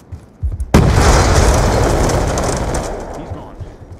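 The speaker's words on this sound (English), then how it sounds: "Grenade! Move!" A grenade detonates in the Black Ops 2 shooter game with a sudden loud boom that rolls into a long roaring rumble and slowly fades, very close and dominant.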